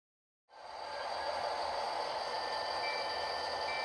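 A model train locomotive starts up after a brief silence and runs steadily with a continuous whirring hum and rail rumble. The sound is moderately loud and unbroken, with no talking.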